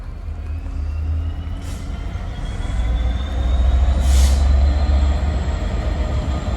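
A GB Railfreight oil train from Rugby to King's Norton Oil Centre, hauled by Class 66 locomotives, rumbles past on a West Midlands line as a steady, swelling roar with faint wheel squeals and rail hiss.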